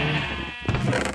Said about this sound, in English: So I've got my sheep here.